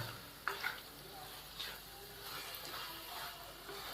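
A potato, spinach and fenugreek curry stirred in a pan over the heat, with a low steady sizzle under a few light scrapes and taps of a spoon against the pan, quiet and close.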